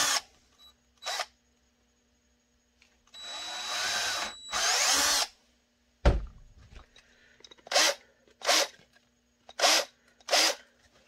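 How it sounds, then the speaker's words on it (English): A power drill with a 1/4-inch bit whirs in two sustained bursts drilling rivet holes, followed by a loud clunk and a series of short, evenly spaced tool bursts in an otherwise quiet space. "And I drill that out with the 1/4-inch one"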